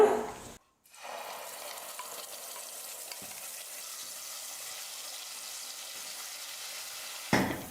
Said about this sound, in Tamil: எண்ணெய் ஓரளவுக்கு காஞ்சதுக்கப்புறமா அரைச்சி எடுத்து வச்சுருக்கிற இந்த விழுதை சேர்த்துக்கலாம்.